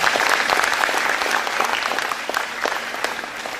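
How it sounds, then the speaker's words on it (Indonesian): A congregation at an end-times church seminar claps loudly and continuously, a dense wash of many hands close by that eases slightly toward the end. "coba tepuk tangan yang paling hebat buat Tuhan"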